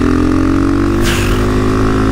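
A KTM 450 supermoto with a four-stroke single-cylinder engine held on light throttle, running close and loud as a steady, even drone with a brief rise in revs partway through.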